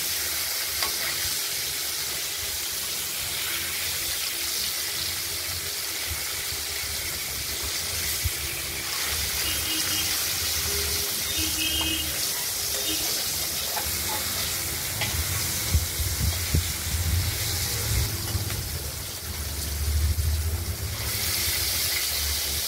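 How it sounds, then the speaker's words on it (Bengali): Catla fish pieces frying in hot oil, a continuous broad sizzle that swells and crackles in places, with occasional knocks and stirring noises over the long stretch. "তেলটা গরম হয়ে গেছে, একে মাছগুলো আমরা ভাজবো।"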